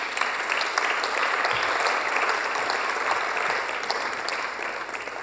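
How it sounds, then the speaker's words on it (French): Audience at a startup contest final applauding as a guest comes on stage, steady dense clapping filling the whole stretch with no talk over it. "s'il te plaît, viens sur scène te faire applaudir."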